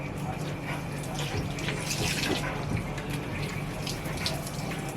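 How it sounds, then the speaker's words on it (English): A blonde 613 lace wig is rinsed under a running tap, a constant, fairly loud rush of water with soft splashing and sloshing as the hair is worked under the stream. "It's super easy to wash your wigs."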